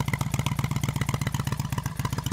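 A 1997 Kawasaki VN 800 Softail Deluxe motorcycle idles with its stock baffles still in the exhaust, a loud, close, rhythmic thumping pulse that stays steady throughout with no talking.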